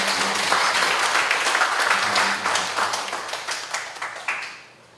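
Congregation applause at a church installation ceremony for a revival association's president, a dense, lively round of clapping that carries for several seconds before fading out.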